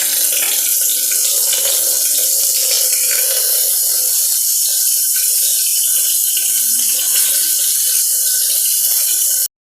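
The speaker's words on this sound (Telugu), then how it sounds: "నాలుగు కప్పుల వాటర్ అనేది వేస్తున్నాను" Four cups of water pour steadily into a cooking pot of fried spices, peppercorns and green chillies for a festival prasadam, a continuous close splashing stream that runs for the whole stretch and cuts off at the end.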